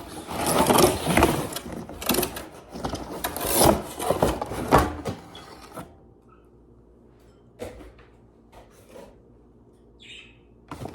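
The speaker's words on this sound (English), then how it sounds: "Let's get this thing out the box." A Maisto Formula F1 radio-control car is pulled out of its packaging, loud crinkling, rustling and cardboard scraping for about five seconds, then a few sparse knocks and handling noises in a quiet room.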